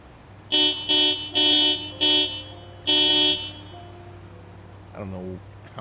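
Car horn in the Project Zomboid video game honks five times in quick succession at even, loud bursts, followed by a quieter trailing tone near the end over a low steady engine hum.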